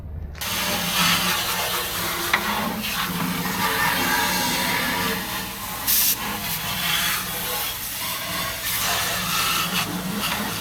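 Water spraying and sloshing while rinsing out the fuel tank of a Honda CBR600RR motorcycle, steady close hiss with small rattling bursts, no talk.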